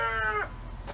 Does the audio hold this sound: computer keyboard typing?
no